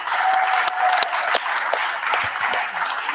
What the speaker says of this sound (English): lease give James, Parker, Aiden, and Brandon one final well-deserved round of applause.